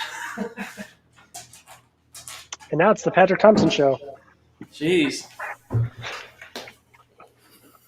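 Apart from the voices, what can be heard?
dog whining and panting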